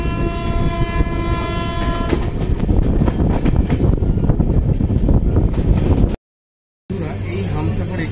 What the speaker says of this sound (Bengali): শিয়ালদা লোকাল ঢুকছে